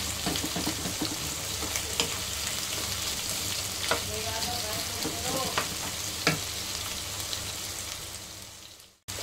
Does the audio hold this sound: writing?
no